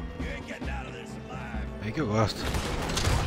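Gunfire in a Red Dead Redemption 2 shootout, a few sharp shots bursting out late in the clip under steady excited talk from a player.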